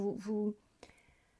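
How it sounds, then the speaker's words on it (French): A domestic cat gives one clear, close meow at the start of a quiet indoor moment, followed by faint room sounds. "si vous entendez miauler, c'est un de mes chats."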